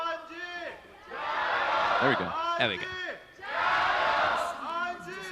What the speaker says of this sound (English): everyone stop the chanting